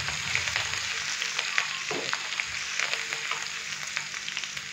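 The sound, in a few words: ginger garlic paste frying in oil for dal tadka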